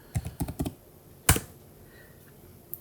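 A handful of quick, close keyboard taps enter a short numeric employee ID, followed by a single sharper keystroke after a pause, in an otherwise quiet room.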